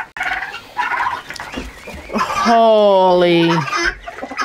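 Chickens at a farm coop during evening chore time cluck and squawk in a loud, drawn-out burst near the microphone, with people talking excitedly before it.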